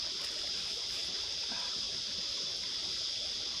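Stream water flowing beside a forest trail, a steady, even rush and trickle heard close up, with no voices.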